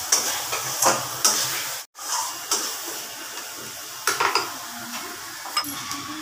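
Onion frying in hot mustard oil in a pan for an Odisha-style prawn curry, a steady soft sizzle with scattered clinks and scrapes of a stirring spoon against the pot and one brief dropout.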